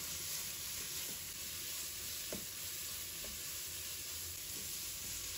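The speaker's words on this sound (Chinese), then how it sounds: "再把包菜倒进来，然后继续翻炒。" Cabbage stir-fried with pork strips in a wok, a constant quiet hiss with a few faint stirring scrapes, close by and with no voices.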